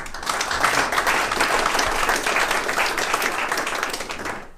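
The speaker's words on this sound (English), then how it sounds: "Appreciate those courtesy claps." An audience at a sailing regatta's trophy presentation claps steadily, a dense, sustained round of applause that fades slightly toward the end.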